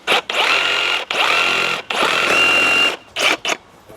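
A Sawzall reciprocating saw cuts through a wooden playhouse railing in loud, buzzing bursts, stopping twice briefly before two short final runs.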